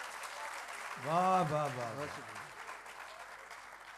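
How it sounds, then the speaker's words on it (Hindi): An audience at an all-India Urdu poetry mushaira claps in a steady wash under a voice calling out praise, the applause continuing moderately loud throughout. "तालियां और बजनी चाहिए भाई साहब"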